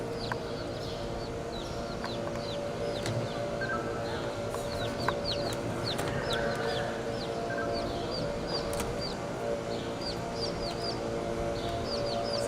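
An egg-laying hen clucks with other poultry at a Texas A&M poultry science facility: scattered short chirps and clucks over a steady, droning barn hum throughout.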